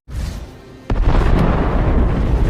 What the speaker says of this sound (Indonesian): Usopp masih berbincang dengan Brogy, tiba-tiba terdengar suara ledakan dari gunung berapi di pulau tersebut.